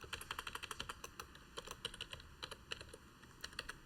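Rapid computer keyboard typing while VBA macro code is edited, close and crisp, a steady stream of individual key clicks in irregular bursts with brief pauses, no voices.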